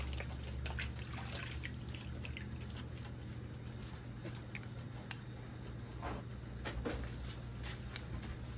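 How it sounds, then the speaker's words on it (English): Tap water runs steadily while hands are washed under it, a continuous close trickle with small drips and splashes and no talking. "wash my hands again"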